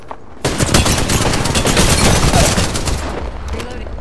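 Rapid bursts of automatic gunfire crackle in Apex Legends, a dense, loud fusillade of closely spaced shots running for a few seconds without talk before easing off.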